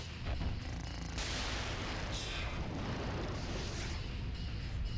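Explosion in the tank video game War of the Human Tanks: a sudden loud blast that gives way to a sustained, dense rumble filling the whole five seconds, with no talk over it.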